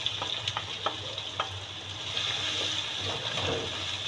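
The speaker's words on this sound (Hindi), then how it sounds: "थोड़ा सा ऑयल डाला इसमें, इस ऑयल में ज़ीरा, ये कलौंजी, अब ये प्याज इसमें डाल देंगे।" Onions sizzle in hot oil with cumin and nigella seeds for stuffed tinda (apple gourd), a close, steady frying hiss with light stirring clicks and scrapes scattered throughout.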